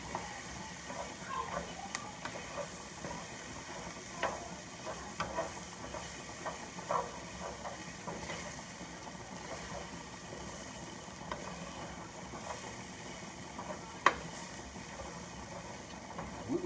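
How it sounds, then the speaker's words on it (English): Sausages and onions frying in a pan with a steady, low sizzling hiss throughout, soft stirring scrapes and small pops, and one sharper clink near the end. "I'm cooking these sausage right now."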